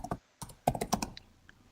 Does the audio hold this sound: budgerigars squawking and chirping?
no